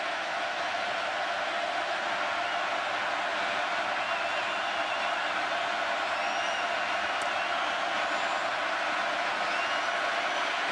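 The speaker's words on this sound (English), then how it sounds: "it's owing to the crowd noise here at Kyle Field" Stadium crowd at Kyle Field during a Texas A&M versus LSU college football game roars in a dense, sustained wash of noise with scattered whoops and cheers rising from the stands.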